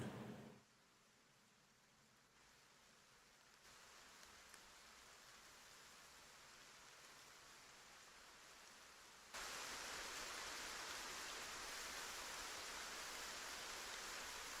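Steady rain hisses in the Gray Zone Warfare game, a continuous broadband wash that is quieter at first and then jumps louder partway through, with no talking.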